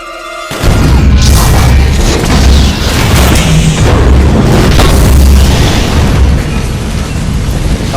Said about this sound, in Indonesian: Di sisi lain terlihat Jack dan John yang akhirnya berhasil menghabisi anak buah Irina menggunakan sebuah bom.